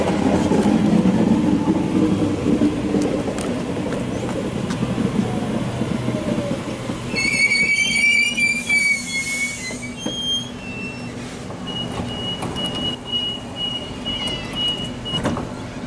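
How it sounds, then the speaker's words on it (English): A passenger train pulls away from a station platform on a Liverpool service, with a low rumble and a burst of high wheel squeal partway through, followed by a thin sustained tone. "B9 is now departing platform number 2, Liverpool service."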